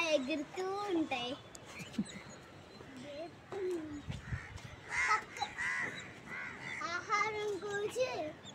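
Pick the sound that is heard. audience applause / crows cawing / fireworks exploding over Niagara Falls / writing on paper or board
crows cawing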